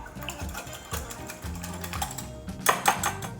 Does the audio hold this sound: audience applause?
no